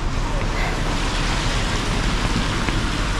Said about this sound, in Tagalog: Malakas pa rin pala ang ulan